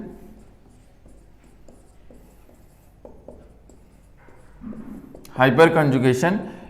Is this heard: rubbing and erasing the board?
no